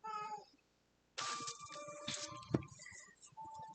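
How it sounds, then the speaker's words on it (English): A house cat meows and makes small noises in the background, quiet and intermittent, with short calls that come and go over a soft indoor hush. "there's going to be cat noises back there for a little bit"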